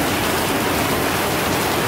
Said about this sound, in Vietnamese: Ngoài trời trời mưa quá trời luôn nè